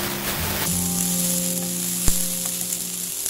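Soy sauce vegetable omelette mixture frying and being stirred in a pan, a steady close sizzle with a single sharp utensil knock partway through.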